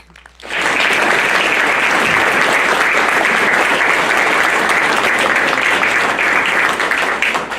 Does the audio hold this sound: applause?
yes